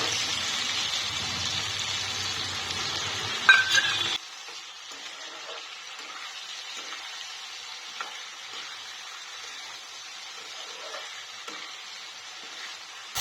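Pumpkin pieces frying in oil with no salt added, giving a steady close sizzle that is loud for the first four seconds, then drops to a quieter continuous hiss with faint stirring scrapes.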